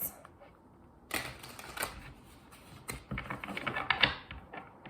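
Tarot cards are shuffled and drawn in a quiet room, producing a few close, crisp flicks and soft clustered tapping rustles.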